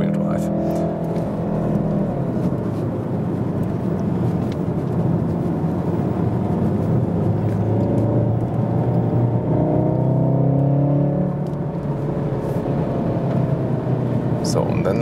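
A 2016 Volkswagen Golf R Variant estate, a 300 hp all-wheel-drive DSG hot wagon, drives hard on a racetrack with a loud, steady engine roar and shifting revs heard from inside the cabin.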